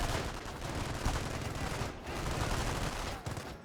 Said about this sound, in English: Alright, machine gun's debut.